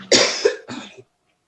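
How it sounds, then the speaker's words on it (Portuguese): A woman coughs in two harsh bursts, the first a double cough and the second shorter, close and loud, followed by silence. "Achei que essa tosse ia me dar uma trégua, mas tá difícil."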